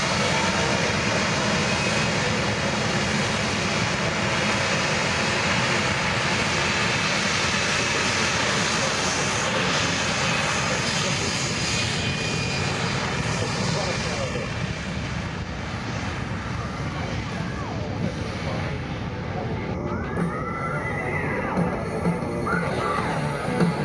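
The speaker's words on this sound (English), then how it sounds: "So you'll hear the engine shooting up in the C-7 now." Loud, sustained roar of a C-17 Globemaster's jet engines spooling up at an airshow, a dense broadband rumble with a rising whine, continuous throughout.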